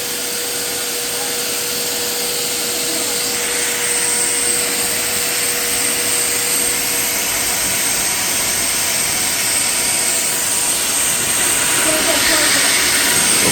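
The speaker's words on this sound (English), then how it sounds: "Look at that blower." Air blower blasting dust out of a disassembled Bissell Powerforce Helix vacuum, a loud steady jet-like whoosh with a high whine running unbroken for over thirteen seconds.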